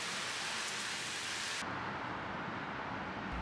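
Steady rain pours down in a constant hiss, heavy and close, with the sound shifting abruptly partway through to a duller, muffled wash as if heard from a different spot.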